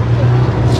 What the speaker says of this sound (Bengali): উঠে পড়লাম স্নো বাইকে